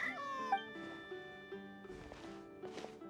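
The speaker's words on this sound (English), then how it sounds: "Even a passing cat can't help but stop in its tracks and look up in anticipation." A cat in the video game Genshin Impact gives several soft meows, including a drawn-out call, set against a quiet, sustained musical background with a few light taps.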